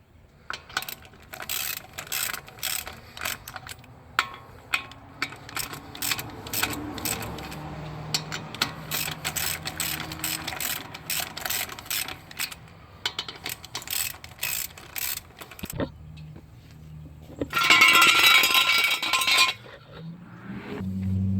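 A hand ratchet clicks in repeated bursts as wheel lug nuts are snugged on a Dodge Dart, close and crisp with short pauses between strokes and a brief metallic clatter near the end.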